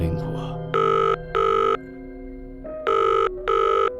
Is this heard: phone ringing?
yes